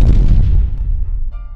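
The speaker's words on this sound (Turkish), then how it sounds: "Evet TNT'ler patladı." TNT explodes in the Minecraft video game, a loud, deep booming blast that rumbles and fades over about a second and a half, with no talking.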